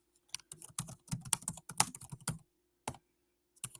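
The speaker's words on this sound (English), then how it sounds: "I would just click on the comment and type in my reply." Quick bursts of keystrokes come from a computer keyboard as a reply is typed, close and clear in irregular clusters separated by short pauses, with no speech.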